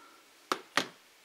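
Two soft taps sound on a Huawei Ascend Mate 7 smartphone's QWERTY touch keyboard, quiet and close, with a slightly bassy quality, spaced about a quarter second apart over a low background hum.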